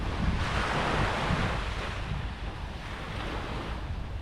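Ocean surf rolls onto South Beach, Miami as a broad, continuous wash of breaking waves mixed with wind buffeting the microphone, loud and unbroken throughout.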